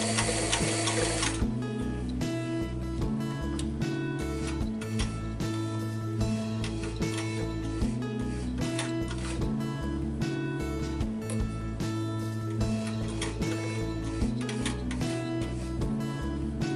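A sewing machine stitches flour sack cloth in fast, even mechanical chatter, running in bursts with brief pauses between them, close and steady.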